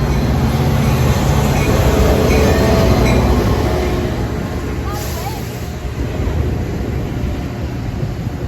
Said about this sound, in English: This train also has no bud car.